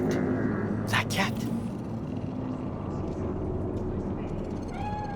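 A cat meows in Cyberpunk 2077, set on a Night City street, a short high mew rising over a steady low city rumble while people talk.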